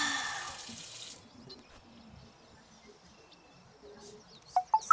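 Tap water pours hard into a bath for about a second, then cuts off, leaving a quiet room with faint scattered drips.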